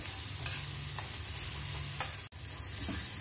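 Onions sautéing in a pan for paniyaram made from idli batter, a steady soft sizzle with light stirring scrapes, fairly faint and close, with no talk.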